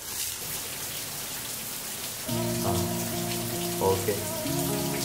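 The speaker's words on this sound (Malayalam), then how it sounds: "ആ നീങ്ങണ മഴ അങ്ങോട്ട് നീങ്ങണം." Artificial rain from a film-set rig on an outdoor Malayalam movie shoot, a steady hiss of spray and drops, joined midway by a loud droning tonal hum like a pump or generator.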